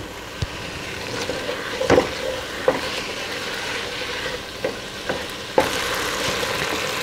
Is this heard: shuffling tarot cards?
no